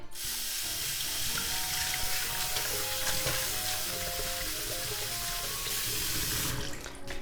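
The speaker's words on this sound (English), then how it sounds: "we're gonna cool this with running water" Tap water runs steadily into a kitchen sink over freshly drained somen noodles, a continuous close splashing rush that lasts the whole stretch and stops abruptly near the end.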